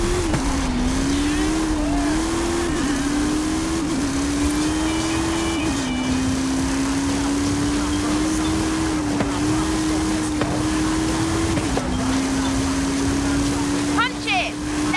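A car accelerating in the Forza Horizon 5 Hot Wheels racing game: a steady, loud engine drone climbs through several gear shifts over fifteen seconds, with a brief squeal near the end and occasional background voices.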